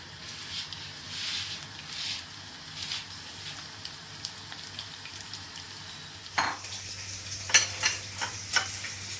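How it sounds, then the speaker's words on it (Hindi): Chopped onions softening over heat in a pan for a malai chicken curry sizzle steadily while a spoon stirs them, with a few sharper scrapes and clinks toward the end; no voices. "इसको हम हल्का सा फ्राई करेंगे, थोड़ा सा नरम करेंगे"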